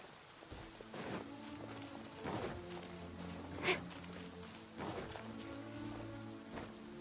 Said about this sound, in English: Quite a downpour.